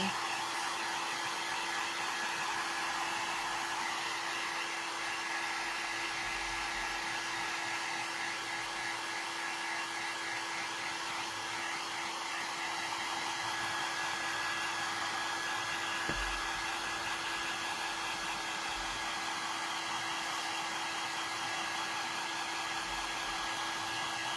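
A hair dryer blows steadily and close for the whole stretch, drying a craft project during a crafting session, with a constant even whoosh and no pauses.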